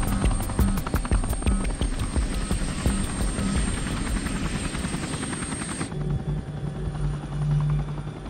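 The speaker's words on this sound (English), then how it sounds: "So we're just prepping the helicopter now" Helicopter turbine and rotor running steadily nearby while being prepped for an Arctic flight on Banks Island, Canada, loud with rhythmic blade chop for about six seconds before the whine drops to a lower, quieter hum.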